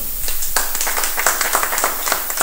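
Audience applause at a Saraiki comedy stage show, a dense patter of claps at moderate loudness that swells after the first half second and keeps going steadily.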